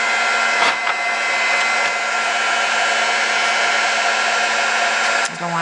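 A Marvy heat embossing tool blows hot air in a steady, loud, continuous whoosh, with a brief rustle near the start and a slight dip toward the end.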